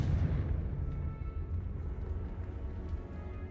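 An explosion from the Confringo fire spell in the video game Hogwarts Legacy: a loud, close blast that trails into a dense, rolling rumble lasting several seconds.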